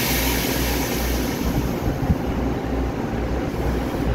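A silver-green Smile EMU900 ten-car electric multiple unit, running as an EMU950 regional express, pulls out of Ruifang station on Taiwan's Yilan line with a steady, close, low rumbling drone and no voices.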